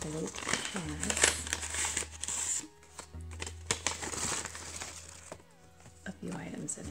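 A small paper envelope holding seed packets crinkles and rustles close by in short bursts, under and between a person's talking.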